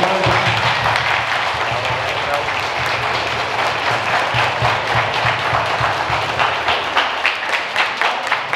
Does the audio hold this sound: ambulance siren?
no